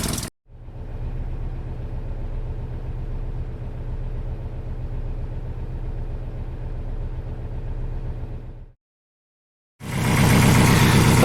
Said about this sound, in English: once it starts idling, which is what it's doing now